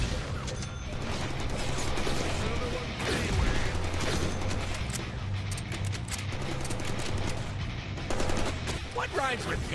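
Rapid, sustained gunfire from the Deadpool video game, dense bursts of shots and mechanical clatter running nearly continuously across the whole stretch at steady loudness.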